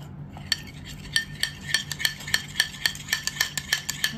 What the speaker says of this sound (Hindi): और इसको एकदम स्मूथ कर लेना है हमने दही को